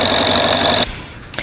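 An embroidery machine stitches a placement line for an in-the-hoop eyeglass case, making a steady, close mechanical whir with a high whine that stops abruptly partway through, leaving quiet room noise and a brief click.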